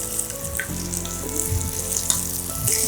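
Pepper and other ingredients sautéing in a pan, a continuous close sizzle with occasional stirring clicks and scrapes, no voices.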